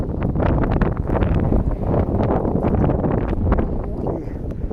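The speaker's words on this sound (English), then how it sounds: "it's so cold and windy" Steady, loud wind buffeting a microphone, a continuous low roar with gusty rises and rustling throughout, no talking.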